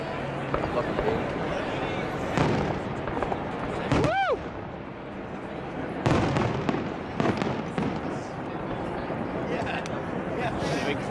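Canada Day fireworks in Victoria, BC, pop and thud in scattered bursts with a rising whistle partway through, while crowd voices talk throughout.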